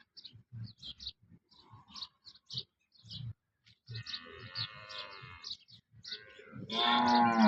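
Local cows on a farm in Banaskantha district, Gujarat, moo several times, nearby and fairly loud, with a long, louder moo near the end and faint bird chirps in the background.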